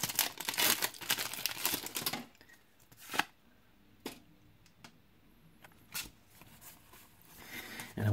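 Pokémon card booster packs torn open, foil crinkling and ripping loudly up close at first, then scattered sharp tears and card shuffles in a quieter room.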